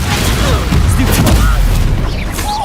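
A Confringo explosion spell in Hogwarts Legacy goes off as a loud, booming burst with crackling debris and a rumbling tail. Spell incantations are spoken over the effect.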